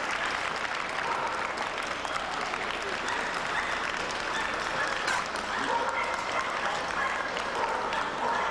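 An audience at the Show of Shows 1999 dog show applauds the terriers with steady, dense clapping that continues evenly throughout, with no voices heard.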